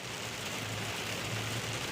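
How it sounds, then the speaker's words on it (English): Heavy rain pours during a severe storm in Atlanta, Georgia, a steady, even hiss that stays fairly quiet throughout. "you still are dealing with that very heavy rain"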